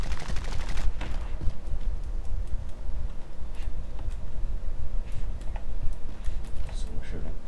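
Gunfire in the video game Warzone during a trios match, rapid bursts of shots rattling throughout alongside steady game noise, loud and continuous, with no talking.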